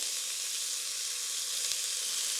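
Diced onions and chopped chilli sizzle in hot oil in a pan as the base for a butternut squash soup, a steady, even frying hiss that holds for the whole stretch with no voices.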